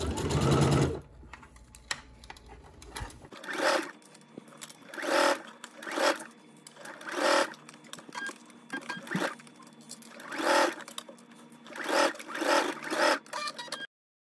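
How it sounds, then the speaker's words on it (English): A sewing machine stitches around a circle cutout in a garment in repeated bursts, its rapid mechanical whirr starting and stopping regularly, close and steady with no talking. "let's take this to the sewing machine so I can show you how to do it."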